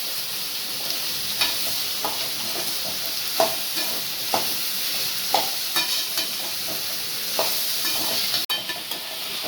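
Bottle gourd sautés in a pan with a continuous hissing sizzle, marked by regular scraping stirs and light taps of a spatula, and one sharp clatter near the end.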